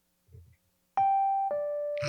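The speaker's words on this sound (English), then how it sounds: "I'm just going to ring the bell." A doorbell rings twice in a classic ding-dong, two clear sustained tones, the second lower, sounding close and loud after a brief soft knock, followed by a short noisy burst.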